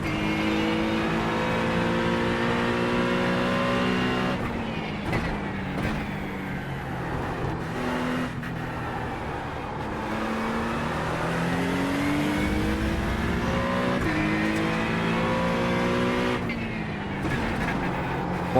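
An Acura GT3 race car in the iRacing video game drones loudly and continuously, its engine pitch rising through the gears, dropping sharply on shifts and climbing again, close and alone without talk.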